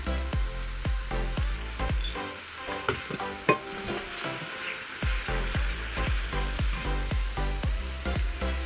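Chili paste frying in a wok as soya sauce goes in for a chicken stir fry, a steady loud sizzle broken by rhythmic scraping stirs of a spatula, close up with no talking.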